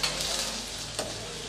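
Onions sizzle steadily as they are sautéed in a pan for vegetable cabbage manchurian, with one brief scrape of stirring near the middle. The sound is alone.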